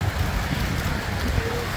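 Water from the Sorrosal waterfall near Broto pours down in a steady, dense roar that fills the whole clip without a break, close and loud, with no speech over it.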